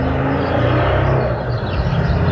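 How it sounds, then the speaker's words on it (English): A loud car roars past close by, a steady engine rumble and tire noise filling the whole moment with no talking. "Oh, that's a loud car."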